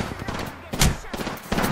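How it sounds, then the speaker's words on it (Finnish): Gunfire in the battle royale video game Apex Legends, several short bursts of shots at close range, fairly loud and punchy, with game sounds between them. "Miks mut nyt ammutaan?"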